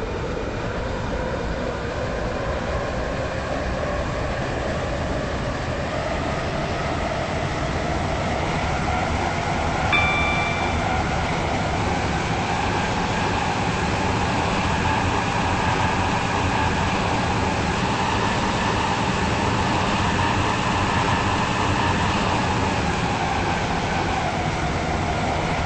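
Class 707 train driving on the Stepford County Railway in a video game, a steady, moderately loud rolling rumble with a slowly rising and falling motor whine, and a short electronic tone partway through.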